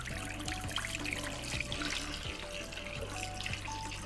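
Tap water runs steadily into a bathroom sink during a morning face wash, a continuous broadband rush with faint knocks and clinks underneath and no talking.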